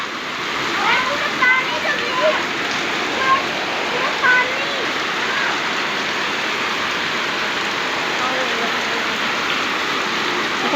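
Heavy torrential rain pours down in a dense, loud, unbroken roar, with faint voices sometimes rising through the downpour.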